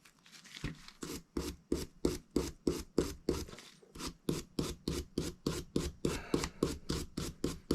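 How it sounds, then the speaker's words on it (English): A bronze-bristled brush scrubs an AR-15 bolt carrier group in quick, even back-and-forth strokes, about three per second, close and crisp with a short pause partway through. "I've got my bronze bristled brush here that I'm going to use to really scrub this down"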